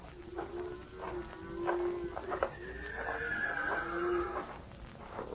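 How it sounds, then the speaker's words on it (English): A horse on a night trail in a radio drama gives a loud, drawn-out whinny with rising and falling pitch, and faint hoof clip-clops sound beneath it, with no speech. "One of the horses must have walked down the trail a piece."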